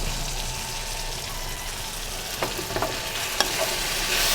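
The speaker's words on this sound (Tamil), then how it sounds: "இது எல்லாத்தையும் நல்லா வதக்கிக்கலாம்" Garlic, dried red chillies and curry leaves sautéing in oil over a medium flame for lemon chutney, a faint steady sizzle with a few light spatula clicks near the end.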